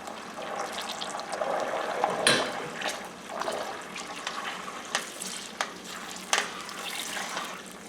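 Melting butter cooks into ghee in a tall pot, giving a steady close sizzle and bubbling with intermittent spatters and pops throughout, with no talking.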